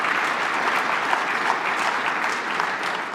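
A legislative audience gives steady, even applause at moderate distance, a continuous wash of many hands clapping with no pauses.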